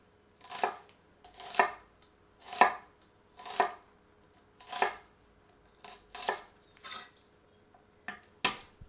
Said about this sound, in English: I like to do this by cutting the onion into quarters lengthwise. Then cutting into thin slices pole to pole.